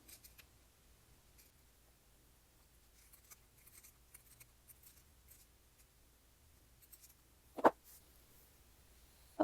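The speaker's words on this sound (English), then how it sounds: "now that we've trimmed around the edges except for the opening" Sharp fabric scissors snipping around the sewn edges of a cotton fabric heart, heard as faint, scattered small clicks and cuts in a quiet room, with one louder crisp snip near the end.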